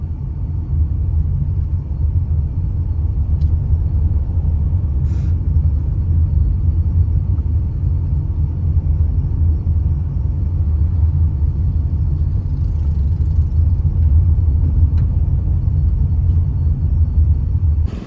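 A Tata Punch car on a long interstate road trip: a steady low engine and road rumble fills the cabin throughout, continuous and even, with no talk.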